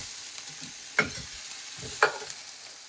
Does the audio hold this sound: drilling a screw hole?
no